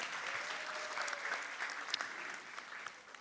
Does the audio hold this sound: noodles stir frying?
no